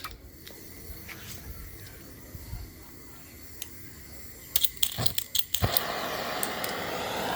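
CRC aerosol spray hisses in a few short bursts onto a Nissan Versa muffler, then a longer steady spray follows, close by over low background noise.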